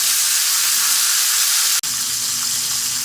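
Steak searing in a hot cast iron pan, a loud, steady hiss and crackle of sizzling fat, broken by one sharp click partway through, then sizzling on without any talk.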